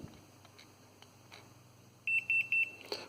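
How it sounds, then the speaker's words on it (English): A network cable tester gives a quick run of about five high, evenly spaced electronic beeps as its test finishes, clear and close over a quiet background. "it also made a beeping noise when it completed"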